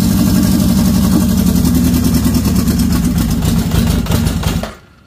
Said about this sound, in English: Idling super low because I got it turned way down.